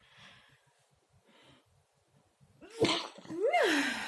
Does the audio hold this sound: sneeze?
yes